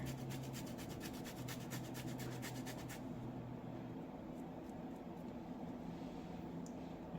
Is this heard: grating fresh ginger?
yes